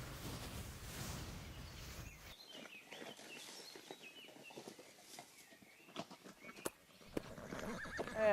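A horse whinnies at the start, then hooves clip-clop nearby at a steady walking pace with faint ambient noise, the neigh returning briefly near the end.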